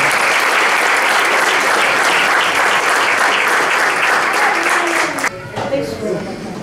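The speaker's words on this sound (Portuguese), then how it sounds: "Você desse um aplauso bem forte." A church audience applauds loudly and continuously as one dense, close wash of clapping, which falls away abruptly near the end, leaving a little room noise and faint voices.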